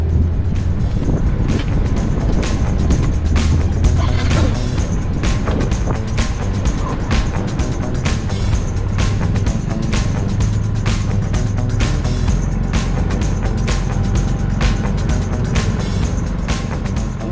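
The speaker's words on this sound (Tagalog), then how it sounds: "Sakyan na natin, check natin kung paano mag-ride ang Suzuki Smash 115 Fi." A 2024 Suzuki Smash 115 Fi motorcycle with a 113cc fuel-injected engine and 4-speed transmission rides along, its engine droning steadily under constant wind rush for the whole stretch.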